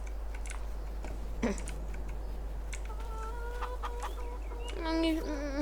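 Hens clucking in a farm coop, a few soft scattered clucks early on building to a louder run of close clucking near the end, over a steady low hum with no talking.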